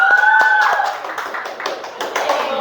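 Students in an Islamic banking class give a short round of hand clapping for the second group, a brisk patter of claps at moderate level with some voices mixed in.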